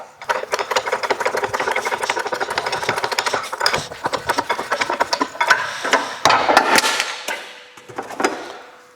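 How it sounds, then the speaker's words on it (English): Shock bushing on a 2010 Porsche Cayenne 957 front lower arm pressed out with a bearing installer: a loud close run of rapid metallic knocks and rattling clanks, breaking into irregular bursts before a final heavier crunch. "I'm using my bearing installer that it's the exact size and I will press it out."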